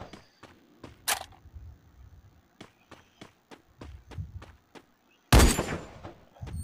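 Gunfire in the Free Fire battle royale game, a series of sharp separate shots at irregular intervals with a louder, longer burst near the end, footstep-like thuds between them.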